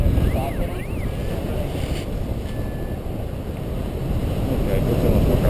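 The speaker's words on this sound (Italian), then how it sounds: "Sta aumentando il vento." Strong wind buffeting a paraglider and its microphone during a landing approach over fields, a loud continuous roaring rumble with steady gusting, and a faint whistling tone briefly rising and falling over it.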